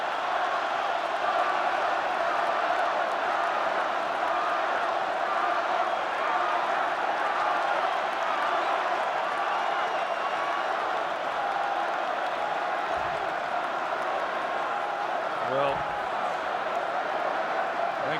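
Big football stadium crowd at an NFL game between the Chicago Bears and Cleveland Browns, a steady dense roar of cheering and clapping that holds at one level throughout, with no voices standing out.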